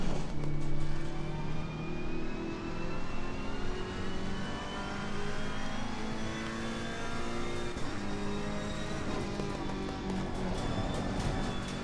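A race car engine held at full throttle in the racing game Assetto Corsa Competizione, a loud continuous high-revving drone with rising pitch and brief shifts, steady and close throughout.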